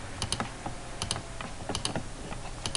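Quick, close clicks of a computer keyboard come in short bursts of keystrokes with small pauses as a captcha is typed.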